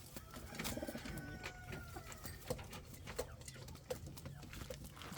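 Indian fantail pigeons coo and flutter in a breeding loft, with soft calls, scattered clicks and wing sounds at a moderate distance and no talking.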